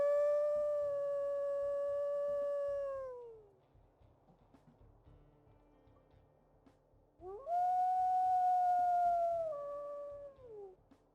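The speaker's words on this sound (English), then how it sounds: "some pretty howls there" Two long, smooth wolf howls from WolfQuest rise and fall in pitch, separated by a quiet gap, each clear and full before tapering off.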